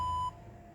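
A steady electronic test tone from the front earpiece receiver of a secondhand Samsung phone sounds for about a third of a second, then cuts off, leaving quiet room noise.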